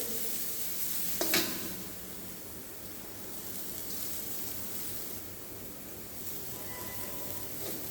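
Shredded carrot sautés in a pan for vegetable spring rolls, giving a steady low sizzle with one brief clatter of stirring near the start and no speech.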